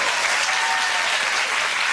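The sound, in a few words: studio audience applause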